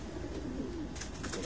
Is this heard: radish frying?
no